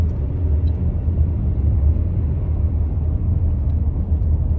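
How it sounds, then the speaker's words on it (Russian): Cars in a huge traffic jam on a road in Ukraine's Ternopil region: a steady, heavy low engine and tyre rumble from nearby vehicles, continuous and even throughout with no voices. "Огромная пробка."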